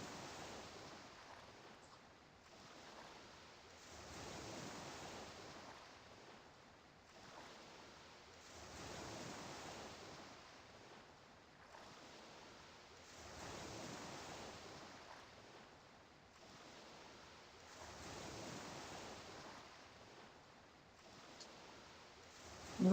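Ocean waves roll in steady, repeating swells in the Everquest Legends game, with soft, wind-like noise rising and falling every few seconds and no voices.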